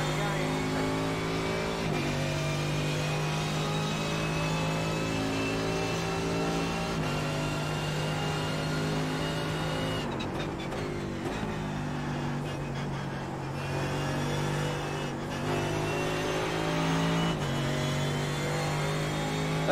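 A Mercedes GT3 race car engine drones steadily at Monza in iRacing, its pitch climbing through the gears with occasional drops on downshifts, loud and close, with someone talking over it.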